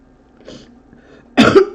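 A single loud, close cough bursts out after a brief quiet stretch with a faint murmur, from someone working through a Rubik's-style cube tutorial.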